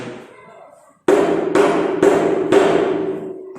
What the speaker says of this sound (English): If we were to beat metals, then they will be giving nice sounds.